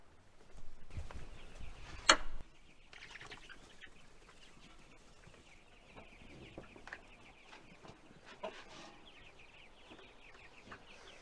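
Ranger chickens cluck softly nearby in a quiet space, with scattered short calls, one louder squawk early on, and light rustling throughout.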